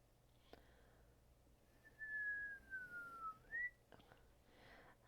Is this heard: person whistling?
yes